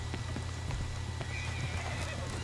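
A horse in the Red Dead Redemption 2 video game clip-clops with sharp, regular hoof strikes and gives a short whinny, close and clear over a low steady background rumble.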